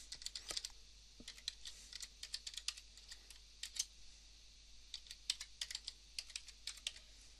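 Steady typing on a computer keyboard as an email address is entered, crisp rapid key taps in short bursts with brief pauses, close and quiet over a low hum.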